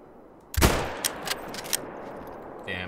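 A single hunting rifle shot rings out in the hunting video game The Hunter: Call of the Wild, with a sharp crack and a long fading echo, followed by a few faint clicks.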